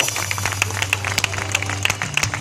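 Outdoor crowd applause for Mr. Gerontidis, a 75-year-old runner receiving his trophy after the 22 km Arnissa race; steady, moderately loud clapping from many hands, continuous through the moment.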